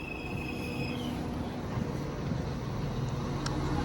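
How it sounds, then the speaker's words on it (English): Transport for Wales Class 197 unit 197-103 leading a Maesteg-bound service at Pontyclun, a steady low rumble and hum with a brief high whine early on, near and continuous. "Leading the Maesteg train is 197-103."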